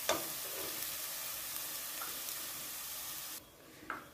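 Dal frying in oil for a large batch of dal tadka makes a steady, fairly soft sizzling hiss. It drops away sharply near the end, followed by a single light clink.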